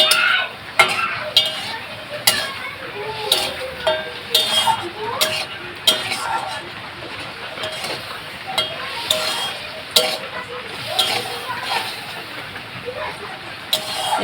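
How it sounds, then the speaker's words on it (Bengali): Fish sizzles steadily in a hot pan while a utensil scrapes and clicks against it every so often. "দেখো কত সুন্দর ভাজা হয়ে গেছে আর একটু হলেই হয়ে যাবে"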